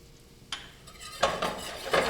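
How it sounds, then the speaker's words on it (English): A whisk stirring flour into melted butter in a pan for a mac and cheese roux, heard as close scraping metal strokes in quick bursts, with a soft sizzle beneath. "You want to whisk that up."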